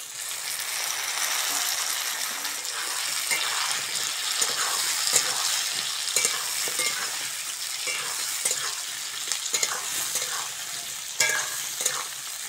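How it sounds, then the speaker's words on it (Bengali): Potatoes frying in oil with onion in a pan, a steady loud sizzle with the scrape and clatter of stirring running throughout, close and continuous with no voices. "পেঁয়াজের সঙ্গে আলুটা ভালো করে ভেজে নিয়েছি"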